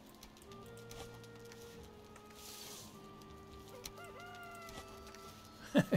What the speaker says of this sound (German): Eier, Hühner, Küken, es läuft. Meine kleine Kükenfarm.